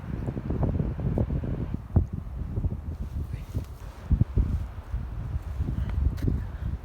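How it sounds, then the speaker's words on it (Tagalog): Strong seaside wind buffets the microphone in a continuous low rumble, with gusty swells and scattered thumps and rustles through the buffeting. "Tabing dagat guys, ang galing, ang ganda, ang lakas ng hangin."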